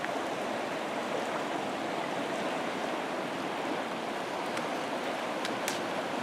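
A river flowing out of Canada in rainy weather, a steady broadband rush of water, constant and fairly near, with a few faint clicks near the end.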